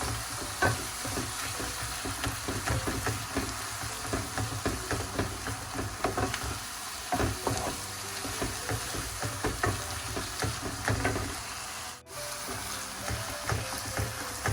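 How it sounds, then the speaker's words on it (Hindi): A spoon mashes tomatoes and eggplants in a hot pan for Baingan Aloo ki Sabzi, giving repeated scraping, squishing and tapping sounds over a steady sizzle of frying. "अब इसको चम्मच की मदद से टमाटरों को और बैंगनों को इस तरह अच्छी तरह मैश कर लेंगे"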